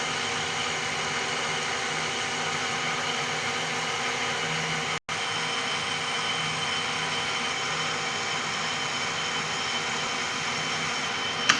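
A lathe runs steadily through a 0.5 mm finishing cut, a constant even machine drone and broadband whir with a brief dropout near the middle, otherwise unbroken.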